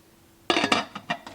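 Frozen pork chops laid into a crockpot, then the lid set on: a cluster of close clinks and knocks of glass and ceramic, a few quick taps tapering off, with no talking.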